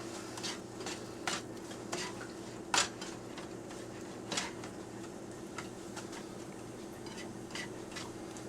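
A plastic spatula stirs and scrapes mushrooms with garlic in a pan, making soft, irregular ticks and taps with a few louder knocks, close by and quiet, with no talking.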